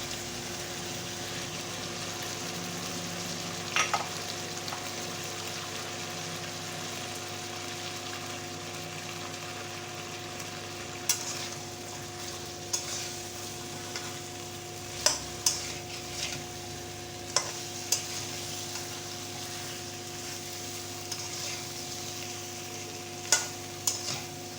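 Chicken wings fry in a kadai (wok), a continuous close sizzle with a steady hum underneath and occasional sharp clinks of a spatula while the pieces are stirred, no voices.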